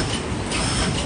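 An OC12 paper cup machine runs under test, giving a steady, dense mechanical clatter with continuous rumble and no pauses across the short stretch.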